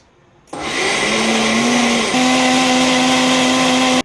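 Electric blender whirring steadily as it purées crayfish, fresh pepper and onions for corn moi moi, a loud continuous motor hum that shifts pitch slightly midway before cutting off.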